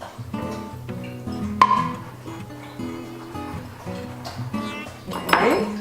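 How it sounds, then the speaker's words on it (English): Lemon juice being whisked into confectioner's sugar in a bowl: soft clinks and scrapes of a whisk against the bowl, under background music. "So we're gonna whisk the lemon juice slowly into the confectioner's sugar"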